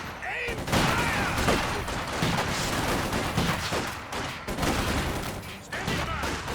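Dense battlefield gunfire from Company of Heroes 2 fills the scene with continuous overlapping rifle and machine-gun bursts, loud and close, while shouted orders from soldiers break through the din.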